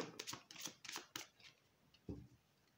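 Thick, flexible, glossy oracle cards with purple edges are shuffled by hand in a series of quick, crisp riffling bursts, close and quiet, followed by a softer slide.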